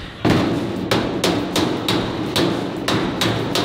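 Repeated sharp metallic hammer blows on a car hood's sheet metal, about eight strikes at a steady, slightly uneven pace, close and loud with a ringing edge.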